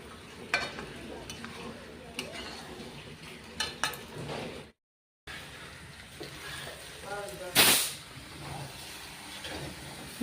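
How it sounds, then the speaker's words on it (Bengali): Potatoes being sautéed with spice paste in a pan for aloo dum, a low sizzle with scraping spatula strokes and a few sharp clanks against the pan, briefly cut to silence midway, then a louder hiss. "এবারে মশলাটার সঙ্গে ভালো করে আলুটাকে কষাবো"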